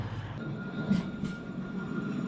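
A tram pulls in as a steady, loud rail rumble with a few brief squeals and clanks near the middle, heard alone with no voices.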